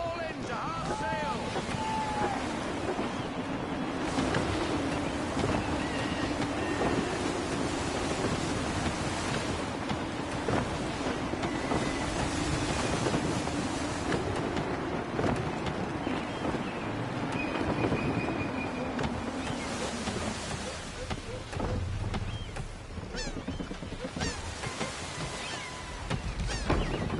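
Gusty sea wind roars around a sailing ship in Assassin's Creed III, a steady, loud rushing bed with crashing waves and creaking, while voices speak over it at times.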